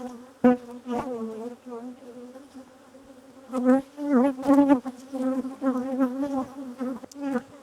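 Honeybees from an angry hive being requeened buzz close around the opened hive in loud, wavering drones that swell and fade as individual bees pass near, with a few quieter gaps between bursts.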